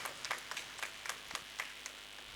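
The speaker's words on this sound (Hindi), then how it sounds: "हम भरपूर तालियों में उनको भी मुबारकबाद देते हैं और वेलकम भी कहते हैं" Applause welcoming a priest at St. Mary's Catholic Church during the Coronation Ceremony of Mother Mary, a faint, scattered crowd clapping with irregular sharper claps standing out, heard from some distance.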